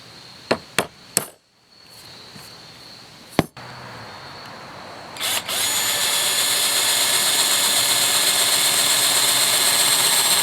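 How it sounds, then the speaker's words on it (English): A few sharp clicks and taps, then a power drill with a 1/8-inch bit starts up, drilling holes for a speaker mount, and whines steadily at high pitch, loud and continuous to the end. "you can see now where I got to drill the holes"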